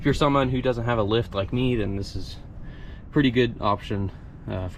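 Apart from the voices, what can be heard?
No everyday noise stands out behind the speech.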